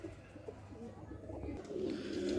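Kaldum Fulsare pigeons give low, rolling coos close by, the calls growing a little louder toward the end over a steady hum of background noise.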